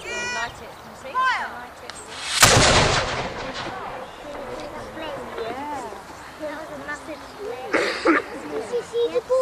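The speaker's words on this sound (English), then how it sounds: "Next gun fire going now." Historical cannon fired during a living-history gun drill at Raglan Castle: a single loud, booming blast near the start, with voices and an instructor's commands before and after.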